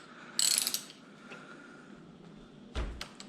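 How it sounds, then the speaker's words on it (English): A ratchet from an automotive socket kit works loose a mirror on a Yamaha WR250R motorcycle, giving two short bursts of clicking separated by a quiet pause, close and fairly loud. "keeping that automotive socket kit on hand's been a great idea"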